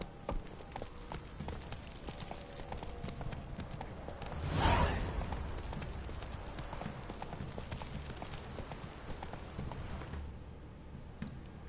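Roach, Geralt's horse in The Witcher 3, galloping with rapid rhythmic hoofbeats that swell to a close, loud pass midway and then carry on under game ambience before cutting off abruptly.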